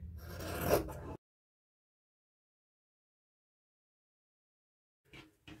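Rotary cutter slicing fabric for washable wipes: one short, close rasping pass, then silence, and a faint rustle at the very end.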